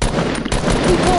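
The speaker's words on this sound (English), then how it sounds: "Why are you shooting?" Rapid bursts of video game gunfire fill the whole short stretch, loud and continuous with a brief dip midway, while players chatter over it.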